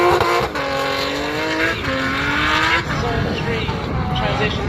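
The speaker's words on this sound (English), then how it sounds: "using every bit of power in that car. As you can see, burning rubber, creating lots of smoke" Pro drift car at a kart circuit with its engine screaming at full power and tires squealing as it slides, loud and close, with a commentator talking over it.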